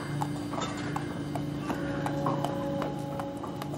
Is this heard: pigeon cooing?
no